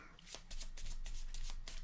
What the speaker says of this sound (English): Shuffle our encounter deck,